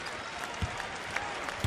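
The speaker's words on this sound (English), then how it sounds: "A well-deserved round of applause from this Marquette crowd" A basketball arena crowd at a Marquette game applauds, a dense wash of clapping, moderately loud with a few sharper bumps.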